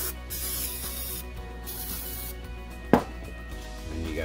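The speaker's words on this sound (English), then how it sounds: "A little brake cleaner." Brake cleaner sprayed from an aerosol can onto a seized ATV drum brake, a steady hiss for several seconds with a short sharp knock near the end, fairly quiet and without talk.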